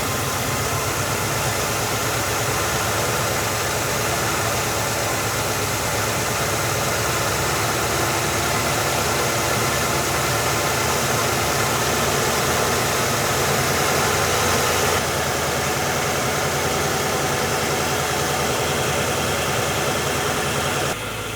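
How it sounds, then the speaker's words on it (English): A rough, uneven idle from an engine running a knockoff carburetor at full operating temperature, a steady broadband engine rumble that holds loud and constant throughout with no talk over it. "Yeah, she's idling horrible."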